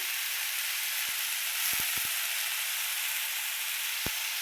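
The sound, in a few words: food frying in oil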